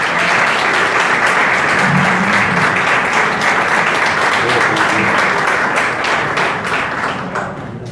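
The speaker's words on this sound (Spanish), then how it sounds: "Fuerte el aplauso" An audience at a civic award ceremony in Arroyito breaks into loud, dense applause. It holds steady for several seconds, then begins to thin out at the end.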